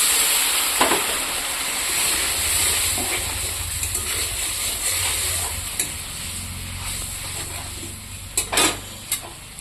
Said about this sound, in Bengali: আমি এখানে অল্প জল দিয়ে দেবো।